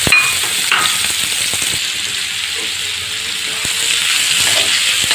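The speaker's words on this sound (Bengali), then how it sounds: "এখন এই ভাজা তেলের মধ্যে আমি পেঁয়াজ কুচি দিয়ে দেবো।" Chopped onions hit hot oil left over from frying boal fish, giving a loud, steady sizzle that carries on throughout, with occasional stirring and no talk.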